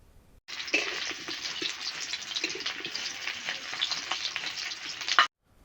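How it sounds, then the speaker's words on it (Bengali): Potatoes fry in hot oil in a wok, a loud, steady crackling sizzle that starts suddenly and holds evenly for about five seconds before cutting off, with no voices. "প্রথমে আলুগুলোকে ভেজে নিতে হবে"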